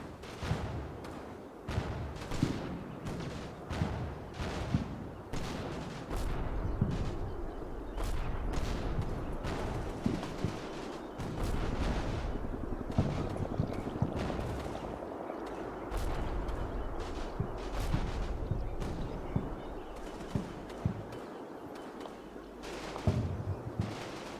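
Repeated machine gun fire and shell impacts in a wartime strategy video game, sharp bursts and thuds recurring irregularly over a rumbling background for the whole stretch.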